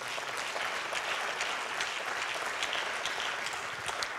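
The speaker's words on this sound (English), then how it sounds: "Would you clap your hands to the Lord?" A church congregation clapping steadily, dense and even throughout, with no voices standing out.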